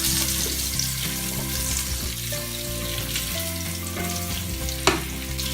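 Salmon fillet fries in a pan for an Indian-style Malvani fish fry, a steady close sizzle and crackle of hot oil with a sharp clatter near the end.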